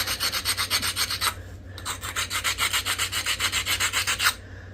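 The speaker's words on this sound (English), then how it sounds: "I prefer this finer abrader. It's still a pretty coarse abrader" A coarse abrader rubs back and forth along the edge of a hornstone flint turkey tail preform, making rhythmic, close, gritty scraping strokes about four per second, with a brief pause partway through.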